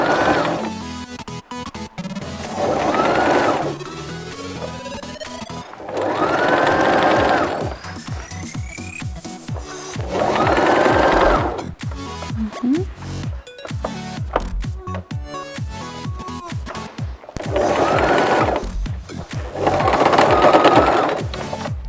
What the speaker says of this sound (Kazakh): Қазір московский шов жасаймыз.